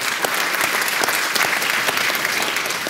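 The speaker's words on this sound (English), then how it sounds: "round of applause." Audience at a panel event on innovation breaks into a sustained round of applause, dense steady clapping from a large crowd with no talk over it.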